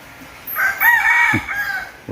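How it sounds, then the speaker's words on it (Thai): Jungle fowl crowing outdoors in Thai countryside, one clear, fairly loud crow drawn out over more than a second, with a few faint bird calls around it. "นั่นคือไก่ป่าครับท่านผู้ชมครับ"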